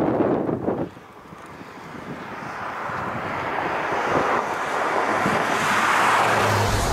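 Porsche 911 992 Carrera S with a 3-litre twin-turbo engine, its gearbox downshifting: a steady, rising engine and road roar with wind rush after a brief louder burst at the start.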